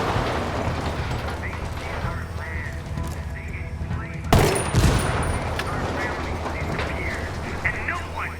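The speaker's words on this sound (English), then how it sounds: "I'm opening fire on these shitheads." Gunfire in the open-world shooter Ghost Recon Wildlands, with a sharp, loud burst of shots cutting in midway over a steady din of game sound and a voice in the background.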